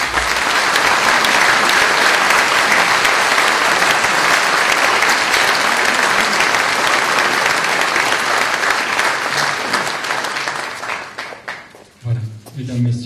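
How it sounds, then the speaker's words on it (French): Sustained applause from the crowd at a mayor's New Year wishes ceremony in Ramatuelle, 2018: loud, dense clapping filling the hall for over ten seconds before thinning out, with voices emerging at the end. "On peut encore les applaudir."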